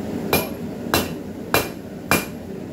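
A hammer strikes hot metal while a bottle opener is forged: four sharp, ringing blows land at an even pace about half a second apart, loud and close, with no talk.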